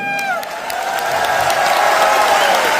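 A crowd at a company's fourth anniversary event breaks into loud, sustained applause and cheering for the CMD, the clapping continuous and dense with a few whoops over it.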